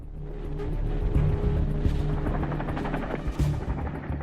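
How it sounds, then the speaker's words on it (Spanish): Helicopters flying to and from a scene with many injured, a loud, near rotor drone that thumps steadily throughout, with some sharper bangs mixed into the roar. "Los helicópteros iban y venían sacando heridos."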